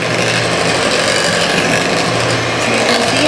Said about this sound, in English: We have to beat it until the butter becomes super soft and fluffy.